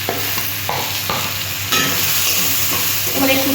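Ground spices such as coriander, cumin, chili, turmeric and Kashmiri chili being stir-fried with salt and sugar in a pan for a fish curry, a loud steady sizzle with scraping stirs and occasional spatula knocks.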